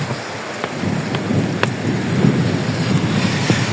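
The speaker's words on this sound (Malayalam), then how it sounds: "ഫസ്റ്റത്തെ പെരുമഴ പെയ്തു വരുന്നുണ്ട് മിന്നും വരുന്നുണ്ട്" Heavy first rain of the season roars steadily in Saudi Arabia while low thunder rumbles underneath, with a few sharp cracks standing out from the downpour.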